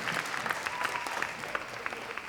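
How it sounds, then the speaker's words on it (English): An audience at Ketchikan's Wearable Art Show claps steadily for the 49th State Security Services, a dense, even wash of many hands with scattered louder claps standing out, fairly close and sustained throughout. "Let's give them a round of applause."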